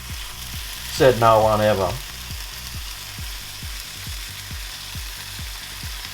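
Hash browns and bacon fry in a pan with a loud, continuous sizzle and crackle throughout. A low rhythmic thumping runs underneath, and a person speaks briefly near the start.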